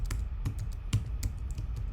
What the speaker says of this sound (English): I'm gonna type in the password again.